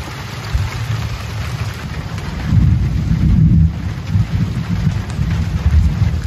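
A thunderstorm rolls over a sailboat at sea, with a loud, deep thunder rumble swelling and fading over steady heavy rain hissing all around.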